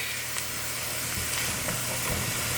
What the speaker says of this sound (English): looks like my butter's melted, and now I'm just gonna let this saute